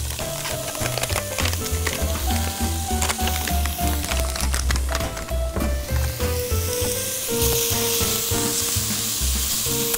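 Steady, loud sizzling of bacon cubes frying in a pan, continuous crackle with a musical tone running underneath throughout.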